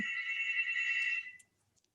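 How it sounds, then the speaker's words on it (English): A telephone rings with a steady electronic tone, close and clear, sustained for over a second before cutting off into near silence. "Sorry about the phone ringing."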